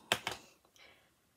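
Two quick, sharp snips close by, followed by a faint click, with no talking.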